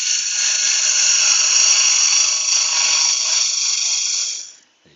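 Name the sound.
drill running during woodturning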